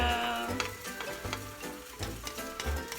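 Avocado, potato and onion fry in a pan ahead of eggs with a loud, close sizzle, while rhythmic low thumps and scrapes of stirring come and go.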